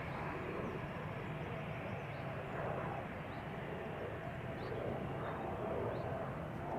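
Airliners take off on parallel departures at Amsterdam Schiphol Airport, producing a continuous broad engine roar at a distance that swells slightly at moments, with no speech over it.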